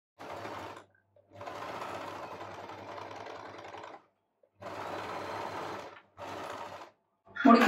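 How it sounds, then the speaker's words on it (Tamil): A sewing machine stitches a drawstring gift bag with lock stitches, running in four close, steady bursts of even whirring separated by brief pauses, with no talk. "நம்ம மிஷின் அப்படி லாக் பண்ணிவிட்டு நீடில் இன் பண்ணி ஸ்டிச் பண்ணிக்கலாம்."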